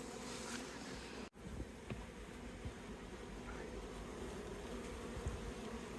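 Honey bees from a full, crowded hive produce a steady, dense buzzing that carries on throughout at close range, with one brief dropout near the start.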